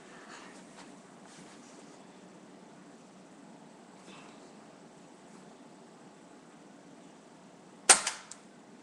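Pellet gun rifle fired once at a tree about 25 feet away outdoors, a single sharp crack near the end over quiet background hiss.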